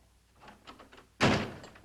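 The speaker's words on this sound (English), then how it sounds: "Shut the door." A door is shut in a cavalry post office during a disorderly dispute over a poker game: one loud, close thump of the door closing, after a few faint shuffling sounds.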